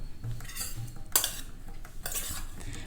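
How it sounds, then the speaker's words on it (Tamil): A metal spoon scrapes and clinks against a pot while cooked rice is stirred, with soft mixing sounds throughout and a couple of sharper knocks. "இப்போ வந்து நம்ம சாதம் மிக்ஸ் பண்ணிடலாம்"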